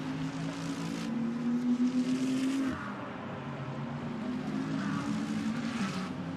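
A Toyota-powered McLaren GT race car on the Imola circuit heads down toward Rivazza during GT World Challenge Europe qualifying, its engine note a steady, moderately loud drone that dips and shifts pitch partway through as it changes gear, with no talk.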